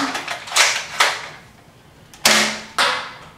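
Nerf XD Strongarm spring blaster firing foam darts, a sequence of sharp plunger snaps with short mechanical clicks between them, several close shots spaced irregularly over a few seconds.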